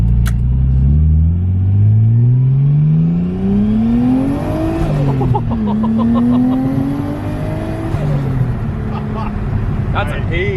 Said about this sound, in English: Let's go for a bit of a drive.